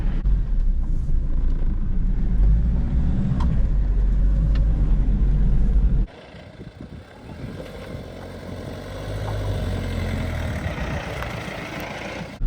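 A Suzuki Vitara 1.9 diesel 4x4 labours on a light off-road climb, its engine droning heavily and low before the tone drops abruptly and rises again, with wind buffeting the microphone and no speech.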